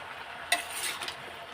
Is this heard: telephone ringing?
no